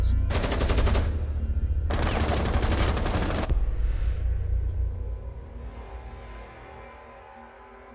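Two loud bursts of rapid automatic gunfire in Rainbow Six Siege during a house team deathmatch, each about a second long, followed by quieter background game ambience.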